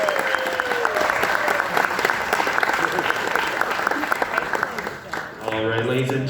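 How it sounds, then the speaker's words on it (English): Wedding guests give sustained applause for the father of the bride, a dense, lively clapping crowd with some cheering. The clapping fades near the end, and a voice comes in over the room. "Let's give another big round of applause for our father of the bride"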